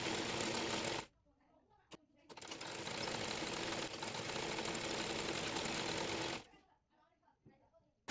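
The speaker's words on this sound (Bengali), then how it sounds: "গলাপট্টির কাপড়টি মাঝের জয়েন্টটি সেলাই করে মুড়িয়ে সেলাই করে নেব" A sewing machine runs a long steady stitch on the collar strip of a round kurta, loud and close, after a short burst and brief pause, then stops into quiet handling.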